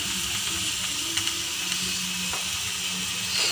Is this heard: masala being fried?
yes